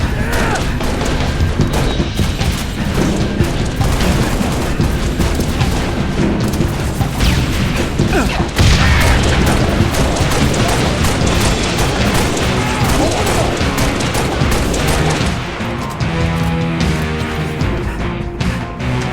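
Dense, continuous gunfire and explosive booms in Halo Reach on PC during the Oni Sword Base mission, loud and sustained throughout with crashes and bursts layered over game music.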